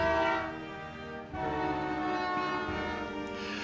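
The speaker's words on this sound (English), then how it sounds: "The Pacific Holiday Train. This is a Canadian staple right here" Canadian Pacific Holiday Train horn blaring loud and sustained with rich harmonic tones, a brief dip then continuing as the decorated train passes close by.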